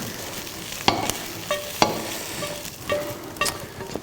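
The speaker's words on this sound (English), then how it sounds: "So now I'm going to put my onions in on top." Onions going into hot oil in a pan on a gas stove for an eggplant bake, a steady sizzle with several sharp clinks and scrapes of a utensil stirring against the pan, no talking.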